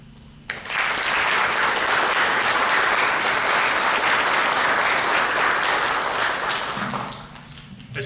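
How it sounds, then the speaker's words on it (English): A crowd at a 2021 firefighter and emergency communications academy graduation bursts into loud, sustained applause for the recruits' families, holding steady for several seconds before tapering off, with a voice faintly heard near the end. "give your families a round of applause for all they've endured"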